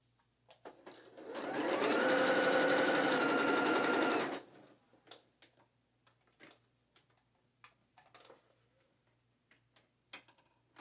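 A sewing machine stitches a net thong bikini with braided elastic, running in one steady, loud burst for about four seconds, then stopping, followed by faint clicks and handling noises.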